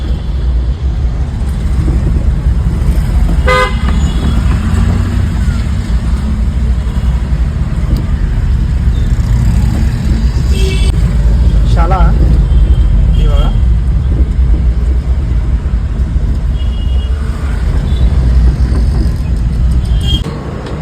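A car drives into a hospital parking area, its engine and road rumble loud and continuous throughout, with traffic around it and a few short clicks and rattles.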